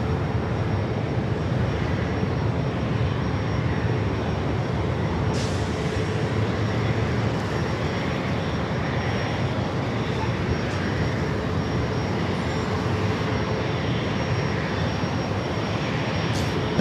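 A British Airways jet departing San Diego airport for London, heard as a steady, broad engine roar that holds evenly throughout, fairly distant and continuous with no talk over it.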